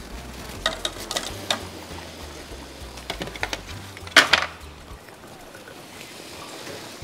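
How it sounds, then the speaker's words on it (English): Plantain pieces sizzle and fry in oil in a pan while being stirred, with irregular scraping clatters and one louder knock over a constant faint sizzle. "Then after doing that, you're going to pour in your plantain."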